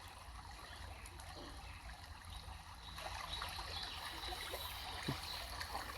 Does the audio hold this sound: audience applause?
no